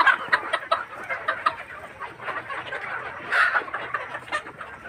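Chickens cluck in quick, overlapping bursts at feeding time, a busy flock calling continuously at close range with no talking.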